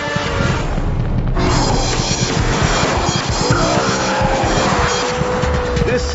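A limited edition BMW M3 drives hard with its tires squealing and skidding, the engine loud and close throughout over a continuous roar of road noise.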